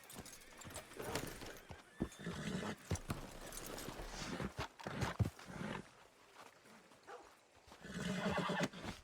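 Horse neighing and whinnying with clip-clopping hooves in Red Dead Redemption 2, the calls and hoofbeats close and loud in several bursts across the stretch, with no talk over them.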